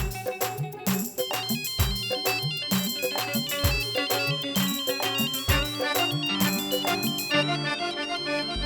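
A bright, melodic ringtone plays continuously, with steady chiming notes over a beat, loud and close, with no voices.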